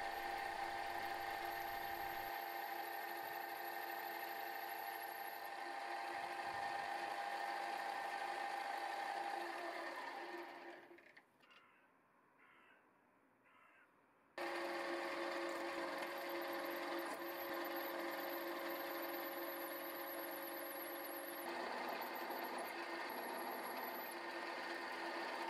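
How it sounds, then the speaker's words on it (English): A machine tool counterbores 6 mm recesses in the string holes of a custom electric guitar part, a steady whirring drone with a high tonal whine that cuts off briefly to near quiet before starting again. "With the string holes drilled, I'm counterboring them 6mm to a short depth to form a recess for the string bobbins."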